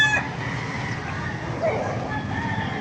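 Gamefowl roosters, including sweater and Boston sweater lines, crow at a farm in Baliuag, Bulacan, one crow rising near the start and others fainter in the distance over a busy yard murmur.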